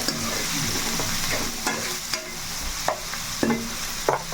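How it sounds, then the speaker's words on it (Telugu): Onions fry in a pan toward brown, a steady sizzle broken by periodic scrapes and taps of a spoon against the metal, close and moderately loud. "ఉల్లిపాయలు అయితే మనకి బ్రౌన్ కలర్లో వచ్చేదాకా బాగా వేసుకోవాలి"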